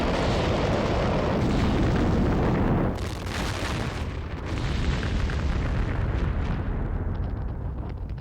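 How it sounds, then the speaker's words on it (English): A dense, roaring barrage of heavy booms and blasts from a factory explosion, rumbling continuously before easing into scattered crackles and bursts that fade toward the end. "A series of massive explosions engulf the neighborhoods within a mile radius of the factory."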